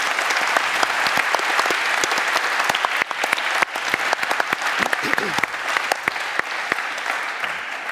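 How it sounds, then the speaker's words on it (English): A lecture audience at a John Lennox talk on faith and science applauds steadily, dense clapping that holds at an even level throughout. "Please do applaud them."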